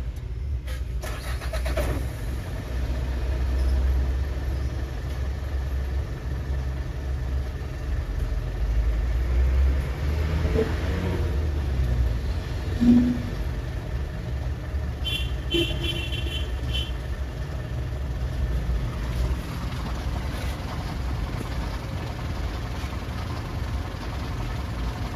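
A car engine starts and then runs on at a smooth, even idle, a steady low hum that stays loud and close throughout with no voices.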